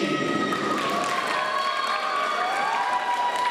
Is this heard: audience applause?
yes